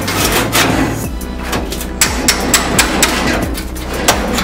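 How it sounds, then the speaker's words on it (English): Repeated sharp metal-on-metal strikes of a hammer driving a chisel through spot welds on a 1967 Mustang fender apron, about two blows per second over a running engine's steady idle nearby. "Now I'm gonna chisel a couple areas right here"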